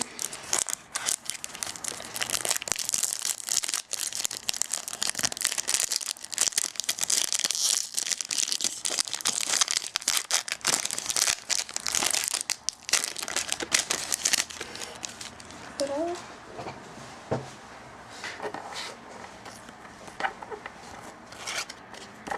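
Gift box packaging torn open and crinkled up close, a dense run of crackling, rustling and tearing plastic and paper that thins into sparse handling noises toward the end.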